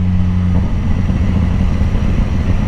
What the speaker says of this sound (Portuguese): Que canhão de moto